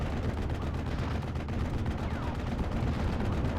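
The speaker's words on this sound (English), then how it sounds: "We got a Warfman barrage coming in." Artillery barrage in a World War II strategy game, 716 Infanterie against 101 Airborne, with dense, continuous rumbling explosions and gunfire forming a loud, unbroken roar throughout.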